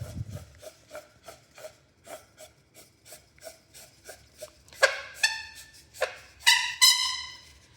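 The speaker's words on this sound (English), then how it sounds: "Screw it all together." Sections of a metal through-desk monitor pole are screwed together by hand. A steady series of short scraping, grinding thread rasps plays up close, getting louder and harsher toward the end.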